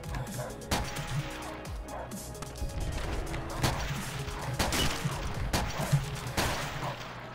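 Rapid gunfire and sharp impact cracks from a first-person shooter game, several bursts over a steady noisy game background, with occasional faint voice in the mix.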